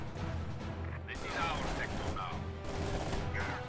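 Rapid bursts of MG42 machine-gun fire in a tabletop-style war video game, crackling in short volleys over a steady battle din while commentators talk throughout.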